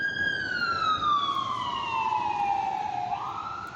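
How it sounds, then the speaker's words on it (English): A loud ambulance siren wails steadily, its pitch sliding downward as the ambulance passes close by, with no talking. "An ambulance driving by."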